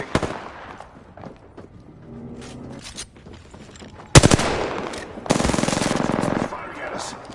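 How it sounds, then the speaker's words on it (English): Automatic gunfire in Apex Legends rattles in loud, rapid bursts, one sharp volley followed by a longer sustained stream of shots, over quieter game ambience and some voice. "Firing at us."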